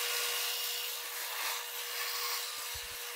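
A steady high-pitched grinding whine of a drill boring into metal, continuous and close, with a few low knocks near the end.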